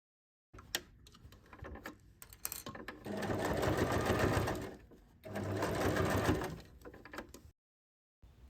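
Sewing machine stitching a tote bag's lining to its main panel: two sustained runs of rapid mechanical stitching, a few seconds each, close and clear, with short clicky starts and pauses between.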